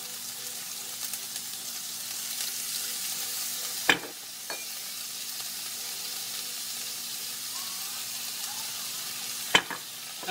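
Curry paste being stir-fried in a pan in a home kitchen, a steady soft sizzle throughout with two sharp scrapes of the utensil against the pan.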